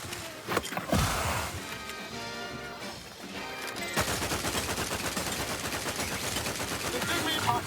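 Rapid automatic gunfire rattles through a firefight in The Outer Worlds 2, dense bursts continuing steadily with some crashes early on, loud and close, with game music or effects layered underneath.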